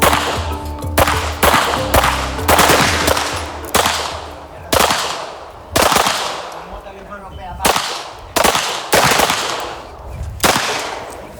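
A machine gun firing in repeated loud, close bursts with short gaps between them, each burst a rapid string of sharp cracks.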